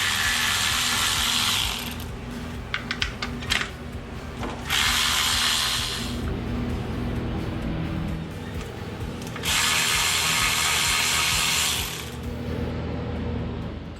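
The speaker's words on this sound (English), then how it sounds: "Let's start pulling the coils off of both sides." Ignition coils coming off both sides of an LS engine during head removal, with several loud bursts of power ratchet whirring and quick mechanical clicks between quieter pauses.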